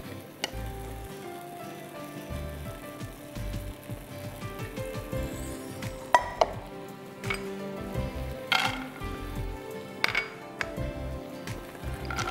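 Moong daal halwa being stirred in a pan, with soft sizzling and irregular clinks and scrapes of a spoon against metal, close and steady with a few sharper knocks, no talking.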